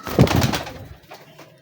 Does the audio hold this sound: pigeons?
yes